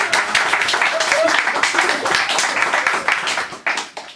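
A small live audience claps for a singer after her set, close and fairly loud, with distinct individual hand claps that taper off toward the end.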